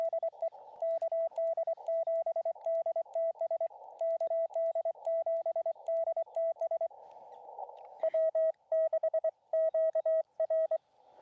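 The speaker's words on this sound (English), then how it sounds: "people can hear the Morse code, the dulcet, lovely sounds of Morse code" Morse code keyed on a ham radio at a high-altitude camp during a Parks on the Air outing, a steady sidetone beeping in rapid dots and dashes, sending runs broken by short pauses and a brief burst of static.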